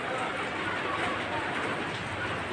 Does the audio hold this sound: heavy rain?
yes